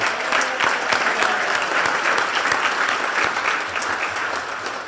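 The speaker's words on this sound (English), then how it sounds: "So round of applause." An audience at a State of the City event breaks into loud, sustained applause, dense overlapping claps filling the room evenly before easing slightly at the end.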